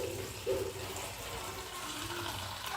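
Tap water runs steadily from a pipe while vegetables are washed in a home kitchen, a soft continuous rush with no breaks.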